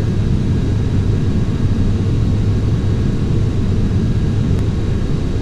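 Airliner jet engines roaring at takeoff power during the climb-out in Microsoft Flight Simulator X, a loud, steady, broadband rumble and hiss that holds unchanged throughout with no voices.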